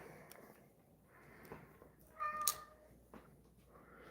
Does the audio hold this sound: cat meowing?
yes